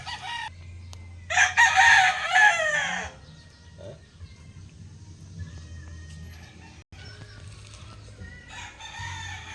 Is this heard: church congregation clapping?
no